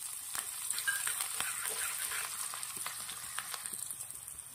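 Finely chopped garlic and chili sizzling with mustard seeds in hot peanut oil, a steady close crackle with scattered pops throughout, no talking.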